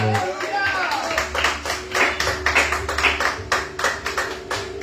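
Congregation clapping during a Spanish-language church sermon in Jusepín, Venezuela, rhythmic group claps in a steady beat over a low sustained tone, with voices present underneath.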